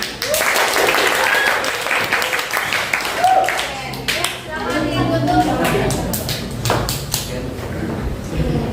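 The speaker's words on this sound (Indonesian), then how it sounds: "Tepuk tangan." A classroom of students applauds during a teaching practice lesson, dense steady clapping running throughout with scattered voices and chatter mixed in.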